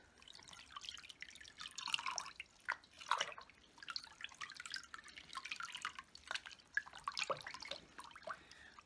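Plain water running and dripping while makeup brushes are washed at a sink, a continuous close splashing trickle with irregular drips and swishes throughout, no talking.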